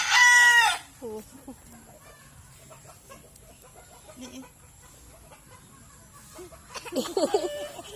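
Chickens in a rural Bicol province yard, a short loud crow up close at the start and a burst of clucking near the end, with a quiet stretch between carrying scattered faint calls.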